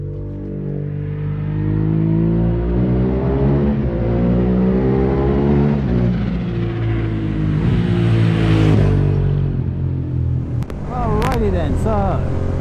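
A Suzuki SV650S motorcycle rides along winding roads, its engine note rising and falling through rev changes and gear shifts, steady and close with wind rush, a brief sharp high noise near the end.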